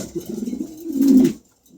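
A Marshal pigeon coos close by in a single rolling, throaty phrase that swells and then stops abruptly, followed by a brief faint murmur.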